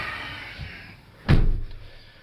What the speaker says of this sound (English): it sounded really good, heavy door, solid